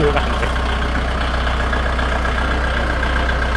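A used 2018 Kubota farm tractor engine idles close by in a steady, smooth, low rumble with an even beat throughout.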